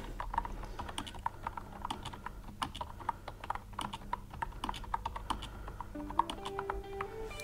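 Rapid keystrokes on a Rii RK700 2.4GHz wireless keyboard click away close up in a quiet room, an uneven run of light taps with a brief pause near the end.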